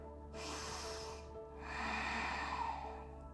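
A deep nasal inhale during a yoga breathing cycle, two long airy breaths drawn close to the microphone in a quiet room, with no talking.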